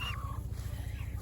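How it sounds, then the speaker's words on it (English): A Brahma chicken in a backyard chook run on an Australian farm gives a brief, soft cluck at the start, followed by quieter rustling over a low steady hum. "the two chooks that are going to freezer camp, these are Brahmas"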